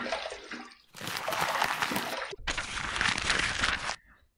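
Water running from a tap while rinsing after a razor shave with a Razorock Mission stainless steel razor, two bursts of rushing flow separated by a short pause, close and loud.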